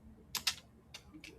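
Typing on a computer keyboard while a Cisco switch is being configured: a few quick, faint keystrokes in two short bursts in a quiet room.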